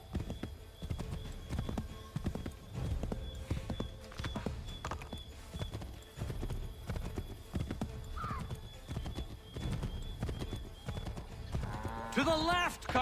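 Horse hooves clip-clop steadily at a riding pace in Assassin's Creed 3, close and rhythmic throughout. A horse whinnies near the end and voices talk over the hoofbeats.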